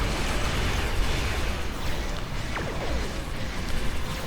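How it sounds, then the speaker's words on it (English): Torpedo spread detonations in the Star Trek Online space battle with a Risian Pilot Corvette, a dense continuous roar of blasts and bursts layered over constant game noise, with a few sharper pops and sweeping tones near the middle. "Torpedo spread overkill."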